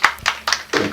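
Audience in a comedy club bar clapping: a short burst of four or five distinct, sharp hand claps, close and fairly loud, with no voices over them.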